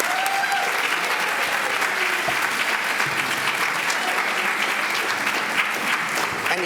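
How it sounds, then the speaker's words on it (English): An audience at a medical talk on type 1 diabetes applauds, with a long, steady round of many hands clapping at an even level, close and full, with no one speaking. "let's give them a round of applause"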